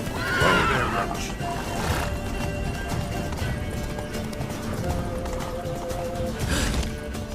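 Geralt's horse Roach from The Witcher 3 gives a loud, close whinny near the start, then its hooves clip-clop steadily under game sound and battle noise, with another neigh-like burst near the end.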